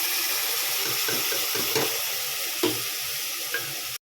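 Ground tomato sautéing in a pan with ginger-garlic paste for beef gravy, giving a steady sizzle under repeated scraping stirs of the spatula until it cuts off abruptly near the end.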